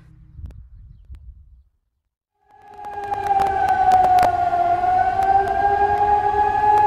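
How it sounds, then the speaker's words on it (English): After a brief murmur and a moment of silence, a civil defense siren rises and holds a long, steady wail that echoes loudly across open streets in central Nicosia, Cyprus. "the sound of sirens echoes through the streets."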